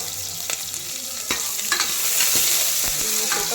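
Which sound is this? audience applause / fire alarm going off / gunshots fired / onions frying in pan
onions frying in pan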